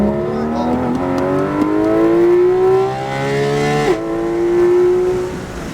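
Porsche GT accelerating hard on the Kansas Motor Speedway track, a loud rising engine whine that climbs through the revs, drops briefly at a gear change, then climbs again.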